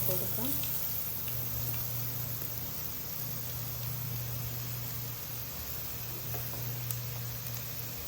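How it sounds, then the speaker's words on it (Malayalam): Cut beetroot for a thoran hisses steadily in hot oil with curry leaves and dried red chillies, a continuous close sizzle over a low background hum. "കട്ട് ചെയ്ത് വെച്ചിട്ടുള്ള ബീട്രൂട്ട് ഇതിലേക്ക് ചേർത്ത് കൊടുക്കാം"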